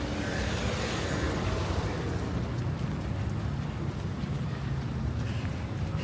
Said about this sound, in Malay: Tapi hujan.